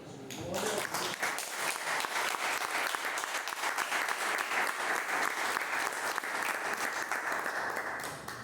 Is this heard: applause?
yes